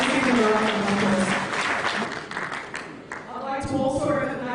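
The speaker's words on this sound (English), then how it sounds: "Let's give him a round of applause." Audience at an engineering association's presidential investiture in Nigeria applauds an honoured engineer, a moderate burst of clapping under a background of voices and harmonic tones that fades and then swells again.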